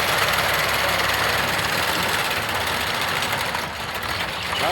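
Swaraj tractor engine running steadily in a farm field during millet harvesting, a loud, dense, continuous chugging drone close by with no voices.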